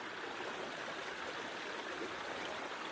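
A stream of water flows steadily across a hiking trail, a continuous broadband rush and babble at moderate distance, unbroken throughout with no voices.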